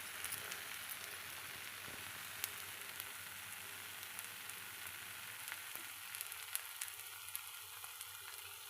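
A ghee dosa frying on a hot pan with oil poured around the side, a faint steady crackling sizzle with tiny scattered pops, quiet and continuous throughout.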